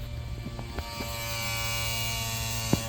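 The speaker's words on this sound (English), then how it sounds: "Let's see if I get fuel pump." Electric fuel pump on a Backdraft Cobra kit car, running dry: a steady, close electric buzz-whine that holds level throughout, with a few light clicks and no speech.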